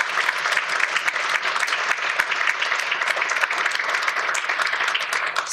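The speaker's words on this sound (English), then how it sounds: "if we could please have a round of applause for Dr. Carmel Ruffalo." Conference audience applause fills the room in a dense, steady burst of many hands clapping at once. It is loud and continuous for the whole stretch, with no talking over it.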